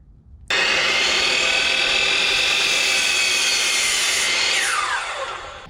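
A power saw cuts through a 2x4 board: a sudden loud, steady close-up whine that holds for about five seconds, then winds down as the blade slows after the cut.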